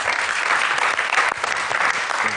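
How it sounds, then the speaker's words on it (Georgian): A television studio show audience bursts into loud, dense applause, with sustained clapping from many hands close by and no talking over it. "ტაშით შევხვდეთ"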